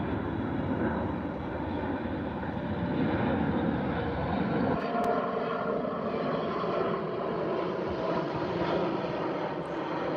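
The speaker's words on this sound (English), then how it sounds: "There's a Airbus A330, I think." An Airbus A330 jet takes off at Heathrow on runway 09L in the evening, a loud, sustained engine roar that holds steady, its low rumble easing about halfway through as the aircraft climbs away, with no speech.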